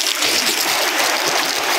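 Water from a check dam pipe gushes out under strong pressure in the Udayagiri hills of Nellore district, a dense, steady hiss and splash that fills the short moment at close range with no talking.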